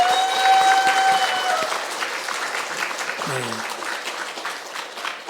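Church congregation clapping together at a Sunday worship service, a broad wash of applause that is loudest at the start and slowly thins, with a voice speaking briefly over it.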